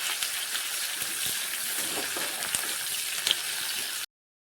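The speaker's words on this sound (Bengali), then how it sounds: "পেঁয়াজগুলো লাল লাল হওয়া পর্যন্ত ভেজে নেব" Sliced onions fry in oil seasoned with cumin, five-spice, chili and bay leaf, giving a close, steady sizzle with a few faint stirring taps, then stopping abruptly.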